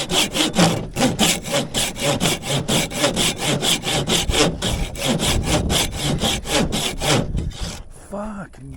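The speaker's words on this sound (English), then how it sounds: "I gave up on drywood, way too brittle, the sawing's forever." Hand saw cutting through dry, brittle wood sticks outdoors, a fast even run of rasping back-and-forth strokes up close, ending in a few lighter scrapes.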